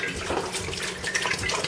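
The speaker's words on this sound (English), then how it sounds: "We will start off at first by taking a gallon of water. And pouring it into this pot." A gallon of water pours steadily into a cooking pot, a continuous loud splashing rush with no speech over it.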